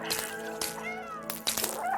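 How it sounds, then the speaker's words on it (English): A cat in the video game Stray gives several loud, close meows in quick succession, with drawn-out pitch-sliding calls over a steady game background. "listen, Ginger Kitty there"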